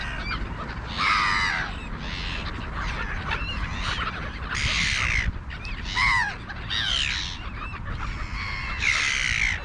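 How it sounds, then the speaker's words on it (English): Crows caw in loud, harsh bursts outdoors where birds gather for treats alongside gulls. The calls repeat irregularly over about ten seconds above a constant background hiss. "I just saw a crow like Charlie run after the gulls."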